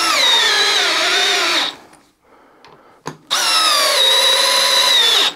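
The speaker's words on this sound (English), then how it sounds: "You can hear the motor start to kind of change its pace, if you will, on those bigger fasteners." Milwaukee multi-chuck drill driver sinking 3.5-inch screws into wood, a loud close whine that sags as the motor strains, stopping for a short pause with a clack, then running hard again.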